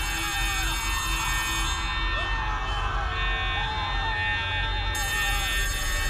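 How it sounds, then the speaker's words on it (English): Alarms blare continuously inside the Poppy Playtime: Chapter 3 video game, a loud, steady electronic wail that holds the whole stretch without a break. "We got the alarms screaming."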